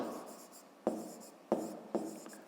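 A pen writes an explanation in a fifth-grade maths exercise, giving quiet close scratching strokes broken into several short repeated bursts.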